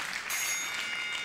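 A game show studio audience claps steadily, a short dense burst of applause filling the room with no voices over it.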